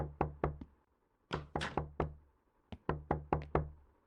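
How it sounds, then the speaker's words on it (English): Door knocks in the horror game Night Knocks come in three bursts: a quick set of three, then four, then five sharp raps, separated by brief silences. "Door is going to knock."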